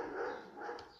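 A pet dog gives a short, faint bark or yip, a single brief burst heard alone and at some distance.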